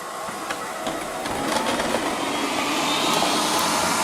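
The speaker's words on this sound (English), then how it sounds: "I've now scattered quite a lot of crumbs on some lino to see how it copes with these." A Liectroux B6009 robot vacuum cleans scattered crumbs off lino, a loud, steady whirring hum of motor and brushes that swells slightly as it runs.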